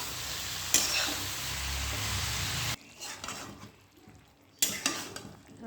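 Boiled green jackfruit stirred and sautéed in oil in a pan, with a steady sizzle and scraping spoon sounds that stop abruptly partway, then quieter clinks and a brief return of sizzling.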